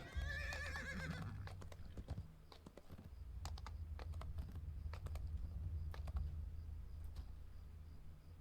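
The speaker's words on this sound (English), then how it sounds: "Ride my pretty horse." A horse in a video game gives a loud neigh at the start, followed by rhythmic hoof clip-clops and scattered computer keyboard clicks throughout, no talk.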